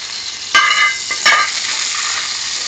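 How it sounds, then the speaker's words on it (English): Vegetable ghee sizzles in a frying pan as the cooking of paneer chilli masala begins, a steady hiss broken by two brief louder bursts of spattering, with no talking. "There is a frying pan here. Toss in a bit of vegetable ghee,"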